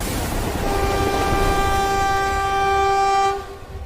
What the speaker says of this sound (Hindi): हमारी ट्रेन तो ऑटोमेटिक चल रही है